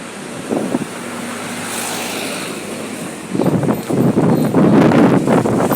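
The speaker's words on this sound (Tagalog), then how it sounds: "Mahangin." Strong wind buffets the microphone in a steady roar, growing louder and gustier midway, with faint voices at the start.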